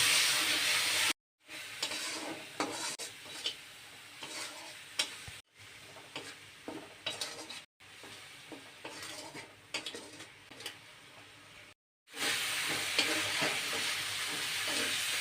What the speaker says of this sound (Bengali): এখন আমি দিয়ে দেব মশলা মশলা দিয়ে আমি কষিয়ে নেব